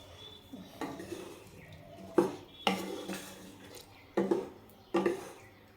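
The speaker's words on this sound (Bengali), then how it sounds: "আমি এখন নামিয়ে নেব।" A cooked dish comes off the stove as pots and utensils are handled, with several distinct metallic clanks and scrapes spaced out over a quiet background.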